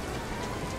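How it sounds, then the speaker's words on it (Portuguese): Rain falling in the Kingdom Hearts 3 video game, a dense, even hiss of steady downpour filling the brief moment with no voices. "Ó, a chuva, que épico, mano."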